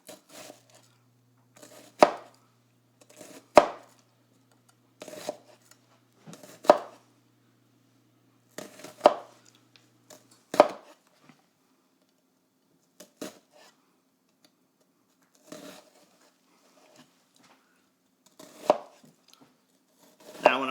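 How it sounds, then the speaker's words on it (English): A knife chopping onion into a small brunoise on a board, sounding as sharp, close, separate knocks in irregular bursts with quiet gaps between them, and no talking. "If you cut this small Brunoise, then, as my mom would say, you can't even taste it"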